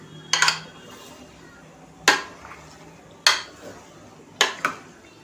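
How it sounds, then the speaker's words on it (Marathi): A spoon stirs chicken through a masala of ginger, garlic and tomato in a pan, making four sharp metallic clanks against the pan at uneven intervals over a quiet background. "आपण हे चिकन जे आहे ना छान असं आपल्या या मसाल्यात परतून घ्यायचं आहे"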